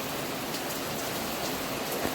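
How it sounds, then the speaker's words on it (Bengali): Rain pouring down in a rural Sundarban setting, a dense, steady hiss of drops drumming on surfaces, loud and continuous, cutting off abruptly at the end. "একেবারে হঠাৎ করে বৃষ্টি শুরু হলো"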